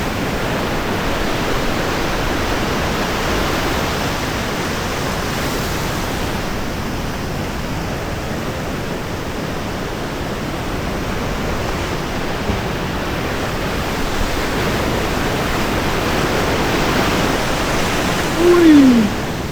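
Ocean waves at Srakung beach in Jogja roll in as a steady, loud broadband wash of surf that barely rises or falls, with no clear individual breakers and a brief thump near the end.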